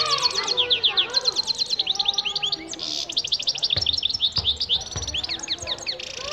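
A caged goldfinch sings continuously in rapid, bright chirps and twittering trills, close and fairly loud, with a few soft thumps in the background.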